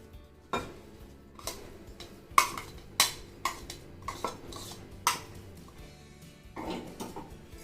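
Spoon stirring ground dal into drained rava batter in a metal bowl: repeated clinks and scrapes against the bowl in an uneven rhythm, close and moderately loud, with no talking.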